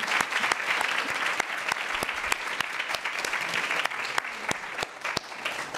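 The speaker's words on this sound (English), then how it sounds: "Give yourselves a big round of applause." An audience at a nursing school stethoscope ceremony applauds in a dense, even round of clapping, with sharper individual claps standing out near the microphone.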